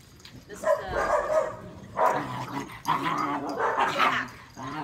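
A lab–shepherd mix puppy yips and barks in short high bursts, close and fairly loud, with growly whimpering sounds mixed in and voices in the background.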